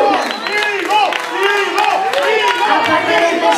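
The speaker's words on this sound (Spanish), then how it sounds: "Un aplauso." A concert crowd applauds and cheers for a guitarist introduced from the stage. Dense clapping blends with whoops and shouting voices throughout, loud and continuous.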